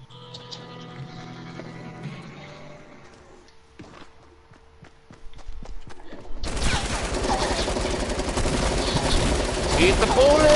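Heavy video game gunfire erupts halfway through a Fortnite-style battle in a playground map, a loud dense fusillade of rapid shots that follows quieter scattered sounds and faint footsteps, with excited voices nearby.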